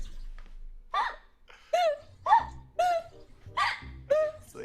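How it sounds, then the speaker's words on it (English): A woman streaming on Twitch hiccups repeatedly, about six sharp voiced yelps spaced roughly half a second to a second apart, close and fairly loud with short breaths between. "You gave her hiccups!"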